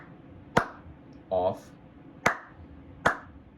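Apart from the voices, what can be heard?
hand claps triggering a sound sensor module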